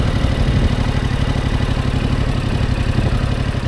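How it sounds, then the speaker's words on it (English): A motorcycle engine runs close and loud with a steady rapid low pulse, idling evenly throughout with no voices. "start the bike again, and when I get to that stutter point, really about right here, where I can hear the RPMs going down"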